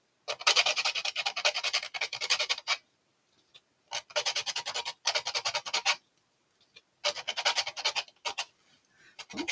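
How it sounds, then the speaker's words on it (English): Small handheld sander smoothing the edges of a resin coaster, three loud close bursts of gritty rubbing separated by short pauses, with faint scrapes in between. "I will take my little sander and I will go from the back like this"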